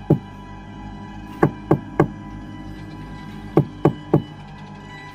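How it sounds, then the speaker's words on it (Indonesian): Knuckles rap on a house door in two clear bursts of three, each knock sharp and close, with a pause between the sets and no voices. "kemudian mengetuk pintu rumah tersebut."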